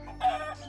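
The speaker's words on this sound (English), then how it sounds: "giant, rapid, murderous chickens" A brief chicken cluck, moderately loud and close, lasting under a second with a slight swell in the middle, with no talking.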